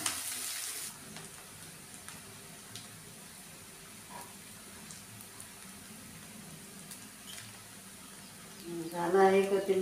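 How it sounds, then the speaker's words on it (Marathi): Two chopped onions frying and being stirred in a pan for a puffed-rice Sushila snack, a soft continuous sizzle with faint scrapes, close but quiet, with a louder clatter near the end. "कांदा थोडं ब्राऊन होईपर्यंत आपण फिरून घेऊया"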